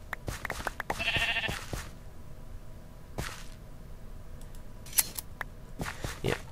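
A sheep bleats in the Minecraft video game, a short clear bleat near the start among scattered sharp clicks and taps, with quieter game sounds around it.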